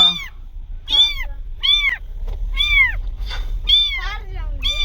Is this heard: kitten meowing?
yes